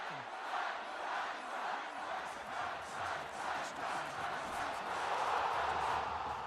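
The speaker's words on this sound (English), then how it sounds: "you could hear the whole crowd telling Forrest to run" A stadium crowd in the College Football 25 video game chants in rhythmic swells, a broad, steady roar rising and falling at a moderate distance.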